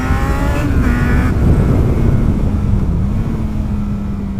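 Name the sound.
sports tourer motorcycle engine revving to 12,000 RPM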